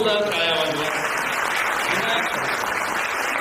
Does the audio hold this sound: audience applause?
yes